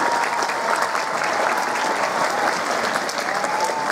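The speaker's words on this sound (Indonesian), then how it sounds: "Tepuk tangan buat Mas Dodi." Applause at a school event at a state junior high school in Jambi, a dense, steady clapping from a large audience, loud and continuous throughout with no pauses.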